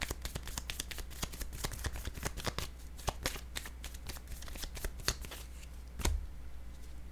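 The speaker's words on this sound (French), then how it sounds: "Je vais déposer une carte sur la justice" Tarot cards handled on a table in a reading, a steady run of crisp snapping card sounds and shuffling taps repeated close by, ending in a heavier thump as one card is placed down.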